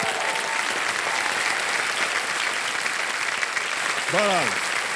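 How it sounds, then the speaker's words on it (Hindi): Sustained studio audience applause from a Hindi quiz game show, loud and steady throughout, with a brief voice near the end over the clapping. "तालियां बज जाए इनके लिए"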